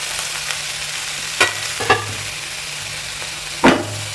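Shallots and green chilies fry in a pan for egg biryani, a constant loud sizzle broken by a few distinct spatula scrapes and knocks.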